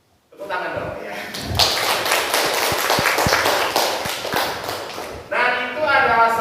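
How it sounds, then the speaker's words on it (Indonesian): Audience clapping after a heroic poem is recited during a classroom teaching session; a dense, steady burst of many hands that holds for several seconds, with a voice rising near the end. "Tepuk tangan dong ya."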